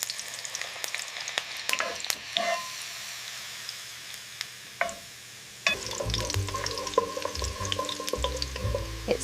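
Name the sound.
garlic frying in oil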